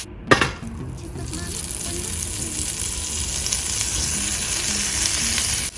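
Salted butter melts and sizzles in a pan for homemade chicken Alfredo sauce, opening with a sharp clank as it drops in, then a steady close crackling sizzle that holds for several seconds, with no talking.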